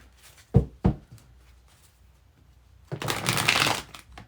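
A tarot card deck handled up close: two quick taps, a short pause, then a dense riffling shuffle of about a second and a half, with no one speaking.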